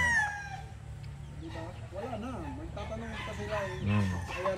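Allen Roundhead gamecock roosters crow loudly and clearly several times, with clucking and other birds in the background while people talk.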